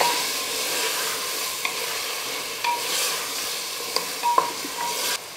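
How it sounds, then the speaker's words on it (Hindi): Mutton pieces being stirred and browned in a pot with half-cooked tomato and onion, a steady close sizzle broken by occasional scraping and clinking of the spoon, no voices. "अब इसमें जाएगा गोश्त और गोश्त डाल के हम भूनेंगे"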